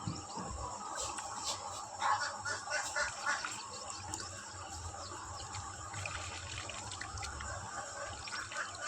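Water sloshes and trickles steadily around a person bathing in open water during a ritual dip for Mahalaya, with faint birds or insects in the background; no one speaks.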